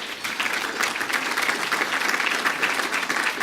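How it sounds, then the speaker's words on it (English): An audience at a Chicago education event breaks into sustained applause, a dense, even wash of many hands clapping with no break. "he deserves a round of applause"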